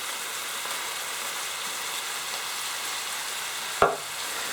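Onions frying in a pan for cottage pie give a steady, even sizzle throughout, with one sharp knock of a utensil near the end.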